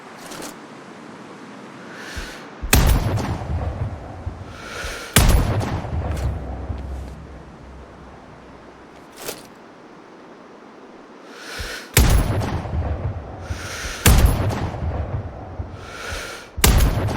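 Sniper rifle gunshots in the video game Sniper Ghost Warrior Contracts, about six loud separate booming shots spaced a few seconds apart, each with a rumbling tail over a low ambient hum.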